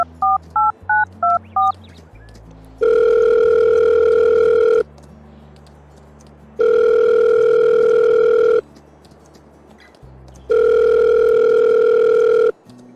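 A telephone in Farming Simulator 22 dials with a quick burst of keypad tones, then rings out with three long, loud tones separated by pauses, a call to Frau Kohl.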